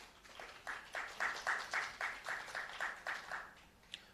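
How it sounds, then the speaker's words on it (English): Audience applause at a Jamaican Ministry of Education and Youth youth advisory council event, a steady clapping that swells and holds at moderate level for about three seconds before tapering off, with no talking over it. "Another round of applause for Mr. Levy and Miss Tracy."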